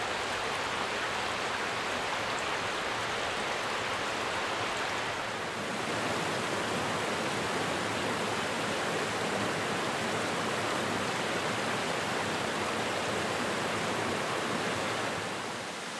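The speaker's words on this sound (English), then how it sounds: "The falls are an impressive 75 feet tall." A 75-foot waterfall near Greenville, South Carolina, giving a continuous, dense roar of rushing water that stays steady and loud throughout with no voices.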